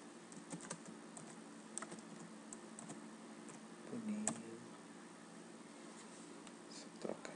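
Quiet clicking of typing on a computer keyboard, keys tapped in irregular bursts at close range with no talking.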